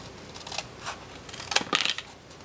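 Scissors snip through paper art tiles in a few quick, crisp cuts, with a brief cluster of sharp snips near the end, close and fairly quiet.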